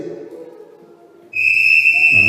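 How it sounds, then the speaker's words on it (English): A final whistle blows sharply and sustained, loud and steady for about a second, following a stretch of speech that fades just before it. "Final whistle."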